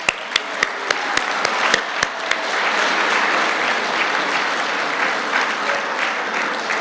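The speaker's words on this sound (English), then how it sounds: "let's give ourselves a big round of applause" An audience at a chamber of commerce semi-annual meeting and awards event breaks into applause, starting with a few loud separate claps that swell into steady, dense clapping from the whole room.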